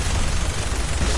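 A car explodes in the Fallout 4 video game, a dense, loud, sustained roar of blast noise that fills the whole moment without a break.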